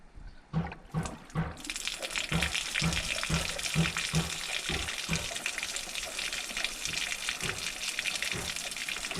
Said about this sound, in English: So the water spilling over into those top chambers actually keeps the siphon going